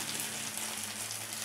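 Zucchini fritters frying in a pan give a steady, even hiss and crackle of hot oil throughout, close and moderately loud, with no voices.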